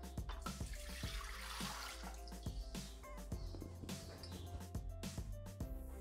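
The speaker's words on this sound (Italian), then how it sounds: "Iniziamo la ricetta mettendo all'interno del boccale l'acqua" Water pours into a Thermomix jug in a kitchen, with a continuous splashing trickle, close and steady, broken by a few small knocks.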